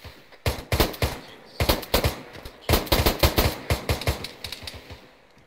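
Rapid bursts of rifle and machine-gun fire in a World War II shooter game, with repeated loud, close volleys spaced by brief pauses over several seconds.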